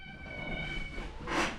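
A cat meows once, a drawn-out cry with clear harmonics, close and fairly quiet, followed by a short burst of hiss or noise near the end, with no talking.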